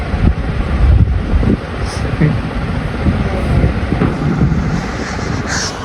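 Strong wind blows outdoors and buffets the microphone with loud, continuous low rumbling gusts for the whole stretch.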